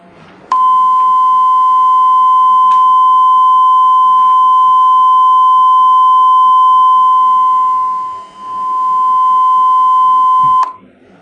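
A steady pure electronic tone from a sound program, held for about ten seconds, loud and alone, briefly dipping in volume near the end as its phase is shifted.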